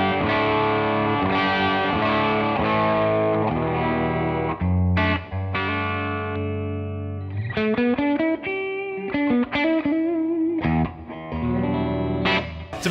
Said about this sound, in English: So, yeah, so with no Marshalls on, it sounds like this.